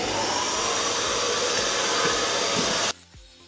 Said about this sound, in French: Allez, aspirateur.